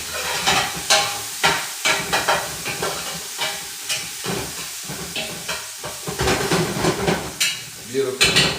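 Rice stick noodle stir fry with mushrooms is stirred in a pan, with scraping utensil strokes over a steady sizzle and hiss; a person talks intermittently over the cooking.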